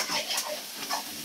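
Fish frying in a pan in a kitchen in Spiti Valley in winter: a steady, close hiss of sizzling oil with soft scraping stirs, without talk.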